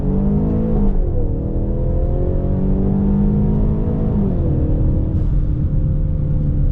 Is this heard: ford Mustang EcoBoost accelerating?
yes